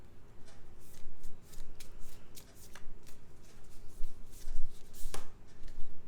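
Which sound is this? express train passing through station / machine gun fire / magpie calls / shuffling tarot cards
shuffling tarot cards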